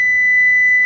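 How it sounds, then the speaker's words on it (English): A kitchen timer goes off while pozole is cooked, a single loud, steady high-pitched electronic beep lasting under a second, clear and close with no talking. "there goes our timer."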